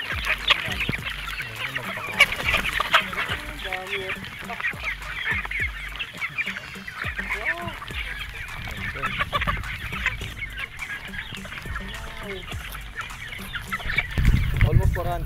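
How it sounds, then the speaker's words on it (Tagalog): A busy gamefarm yard of gamefowl chickens and roosters clucking and calling continuously, with honking fowl mixed in and brief crowing, steady and fairly close. "Mga local edition naman to, mga manok dito ni Boss Mau."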